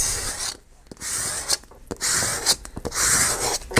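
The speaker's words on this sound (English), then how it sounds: "Let's scrape it." A washi tape masterboard is scraped by hand, giving a close, loud, raspy grinding in long strokes broken by short pauses and a few sharp clicks.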